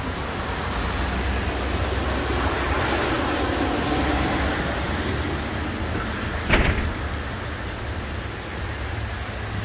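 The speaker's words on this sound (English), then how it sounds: "Ooh, it's raining." Steady rain falls outdoors along a roadside, a continuous broadband hiss with a brief sharper splash or gust near the middle, no voices present.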